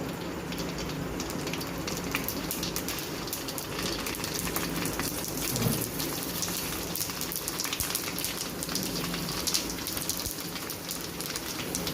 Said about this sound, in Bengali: ফুচকা দিয়ে দিচ্ছি তেলের ভিতরে